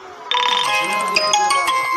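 A melodic electronic phone ringtone plays loudly and close, a bright chiming tune starting abruptly and continuing, with faint speech underneath.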